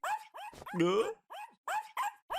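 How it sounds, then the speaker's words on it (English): A small cartoon dog barks and yips sharply in a quick series of bursts, with a longer growling whine in the middle, fairly close. "Angry dog barking."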